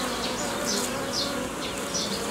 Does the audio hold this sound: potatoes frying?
no